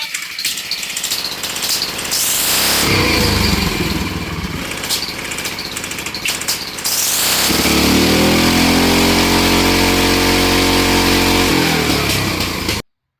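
A Baja MB200 mini bike fitted with a 440cc big block engine and a makeshift exhaust runs loud and close, idling roughly before climbing into a steady, harder-pulling drone that holds until it abruptly cuts off.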